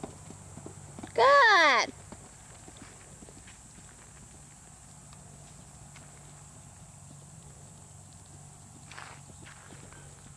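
A ridden horse walks with soft, steady hoofbeats, faint and evenly paced throughout, interrupted early by a short high-pitched squeal, with a brief spoken word from a person nearby.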